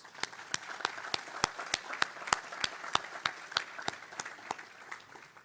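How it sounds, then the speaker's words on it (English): Audience applause at the opening of a symposium held in a local union hall: steady, moderately distant clapping from a crowd, with sharp individual claps standing out and continuing throughout. "Let's give them a round of applause"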